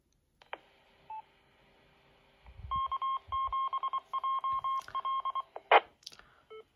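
A Yaesu FT-25R or FT-65R handheld radio keys up a repeater, sending a clean sequence of evenly spaced DTMF tone beeps after a few short clicks, close and alone.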